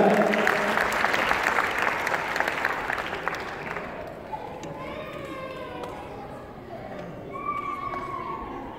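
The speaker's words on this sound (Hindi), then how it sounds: "आपकी भरपूर तालियां" Loud applause from a crowd at a Pakistan Day school event that fades away, then a few children's voices chatter in the background.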